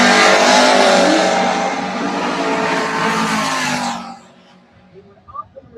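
A drag race car at the Turn & Burn 2026 drag event makes a loud, close engine roar for about four seconds, then the sound cuts away to quieter faint noises.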